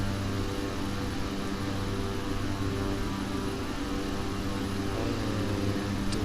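A Beechcraft turboprop at climb power, 90% turbine and props at 1600 RPM with synchronizer on, flying in a flight simulator over Alaska; a steady, dense droning hum with constant tonal whine, continuous and unchanging throughout.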